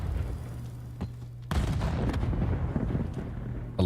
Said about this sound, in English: A lot of frags going off in the background there